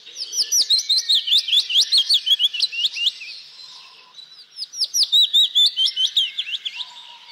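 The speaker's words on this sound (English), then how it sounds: "there are those tiny birds you hardly ever see, but often hear, the warblers." Tiny warblers singing in the countryside, two bursts of rapid, high, clear chirping phrases separated by a short pause, close and loud with nothing else around.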